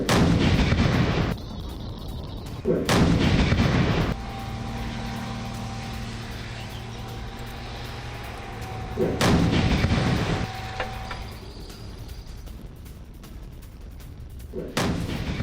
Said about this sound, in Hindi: स्कैंडर मिसाइल से अटैक को अंजाम दिया गया।